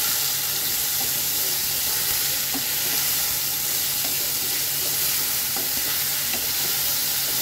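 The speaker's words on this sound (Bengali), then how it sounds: "এবার আমি এটাকে সুন্দর করে একটু নেড়ে দেব" Tengra fish and taro being stirred in a frying pan, a steady broadband sizzle with faint scraping strokes of a spoon running throughout, close and fairly loud with no talking.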